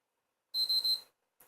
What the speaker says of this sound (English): It should beep 3 times and go black.